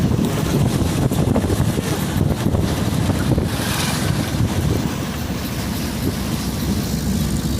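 Fast floodwater from the season's first flood rushes through flooded land in Kanas, a loud, continuous roar and churn, with steady wind buffeting the microphone and no talk over it.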